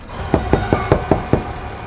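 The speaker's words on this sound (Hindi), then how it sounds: "लेकिन उन्हें फिर से दरवाजा खटखटाने की आवाज सुनाई दी" Six firm knocks on a door, evenly spaced and close, then quiet.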